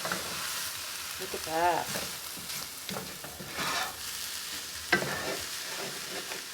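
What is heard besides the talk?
stirring cauliflower fried rice with scrambled eggs in pan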